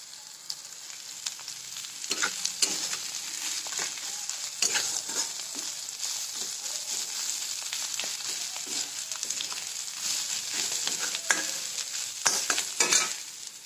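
Crumbled bhakri mixed with crushed peanuts is stirred as it cooks in a pan, with a soft sizzle under repeated scraping spoon strokes at an uneven rhythm, close by and without speech.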